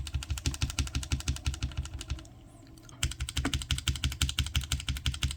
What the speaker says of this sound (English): we got lube brown switches. You can hear the springs.